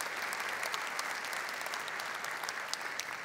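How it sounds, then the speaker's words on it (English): Steady applause from a conference audience fills the whole stretch, dense clapping at an even, moderately loud level without a break. "yes, that deserves applause."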